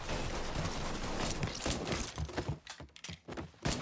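Dense gunfire in the video game Mafia 3, a rapid burst of shots that thins into scattered cracks, busy and close throughout.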